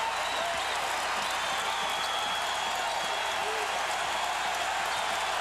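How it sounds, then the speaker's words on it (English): A college basketball arena crowd roars and applauds during a 2001 Iowa State at Missouri game. The sustained wash of cheering holds at a steady level for the whole stretch. "And the crowd back into it."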